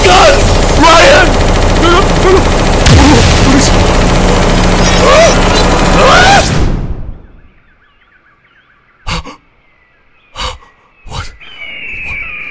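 Loud, dense automatic gunfire from the video game Counter-Strike, a sustained rapid burst that cuts off abruptly, followed by a few separate sharp shots against near silence.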